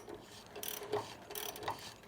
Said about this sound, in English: And then we can release the tension on both spring compressors.